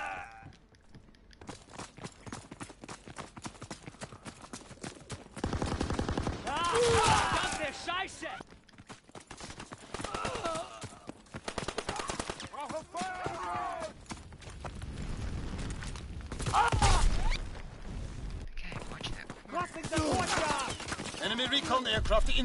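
Call of Duty gameplay with bursts of automatic gunfire and explosions, loud and chaotic in stretches, mixed with game sounds and announcer-style voices.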